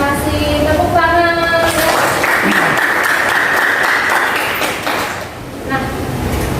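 Students applaud in a classroom, a loud wash of clapping that swells for a few seconds after some brief tonal sounds and voices, then tapers off.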